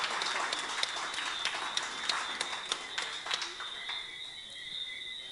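Audience at a security guard service award ceremony applauding, a fairly faint, steady patter of many hands that thins out and fades toward the end, with a high electronic whine running underneath.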